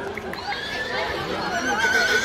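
A sport horse whinnies at a livestock sale in Cardigan, a drawn-out, fairly close neigh rising over a steady crowd murmur.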